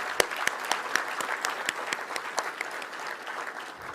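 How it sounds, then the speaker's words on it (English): Brief burst of audience applause for county commissioners at a public service centenary celebration, steady clapping with crisp individual claps standing out. "Let's give them a hand of applause."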